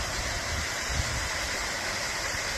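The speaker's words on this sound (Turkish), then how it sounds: "Sular akarken buz tutuyor. Oradan Buzul Şelalesi oluyor." The Ilısu waterfall in Aksaray pours with a steady, dense rush of water, close and loud, with no voices over it.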